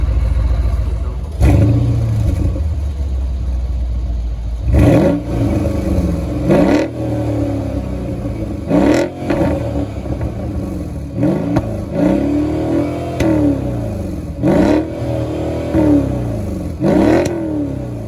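A Mercedes-AMG GLE 63 S is revved repeatedly from idle, each burst a loud, rising exhaust roar that falls back. The bursts come about a dozen times at irregular intervals, close and with no talk.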